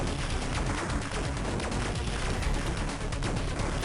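Retro arcade explosions from Space Invaders on the Game Boy Advance, a dense continuous crackle of bursts and flame effects filling the whole stretch at steady loudness with no talk.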